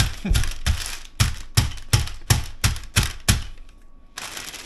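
About ten sharp, heavy thumps of a pan pounding chicken breast under paper land in a steady rhythm, close and loud, a short pause near the end before one more hit.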